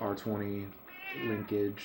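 A house cat meows several times in quick succession, drawn-out and fairly close, with a person talking faintly around the calls.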